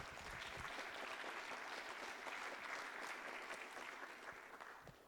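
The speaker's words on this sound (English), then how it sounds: "I hope you could hear the clapping." An audience at a physics lecture applauds after a talk, steady sustained clapping from many hands heard faint and distant, tapering slightly toward the end.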